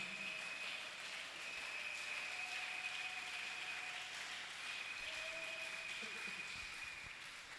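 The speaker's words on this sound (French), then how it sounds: "Est-ce qu'on peut acclamer pour Dieu?" A church congregation at a Thursday worship service claps and cheers for God, a steady, dense wash of applause lasting throughout, with some voices mixed in and a sustained tone running underneath.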